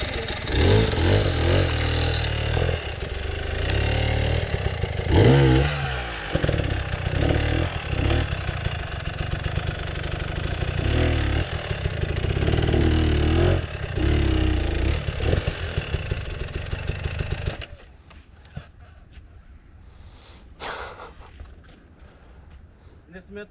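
An enduro motorcycle on a rocky hard-enduro hill climb revs loud and close in rising and falling bursts for most of the stretch, then the engine drops away to faint distant sound, with people talking over it.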